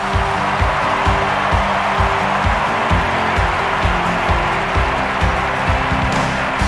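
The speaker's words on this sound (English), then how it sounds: "Well, the crowd are up, they're on the feet." A stadium crowd in the London 2012 video game roars and applauds at an athletics event, a dense, steady wall of cheering that holds loud throughout, with a few rhythmic low thumps underneath.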